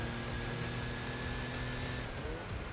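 Race cars in the game Enthusia streaming past on a straight, a continuous loud engine drone with steady tones and a faint passing sweep near the end, no talk.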